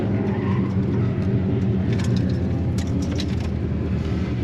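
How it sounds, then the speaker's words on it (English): A car's engine roars steadily at close range during a fast police ride-along, with faint tire-spin and skid noise under the drone and no talking. "I'm only barely spinning the tires"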